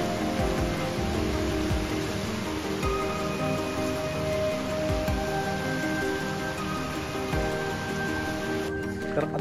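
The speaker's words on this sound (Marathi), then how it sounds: "तर आता पाऊस जरा कमी झाला" Heavy rain falls outdoors as a dense, steady roar of drops on surfaces, unbroken and fairly loud throughout, with no clear talk.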